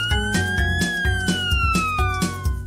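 A toy red fire truck's electronic siren wails loudly and continuously, its pitch sweeping up and down over a repeating rhythmic beeping pattern, with no talking.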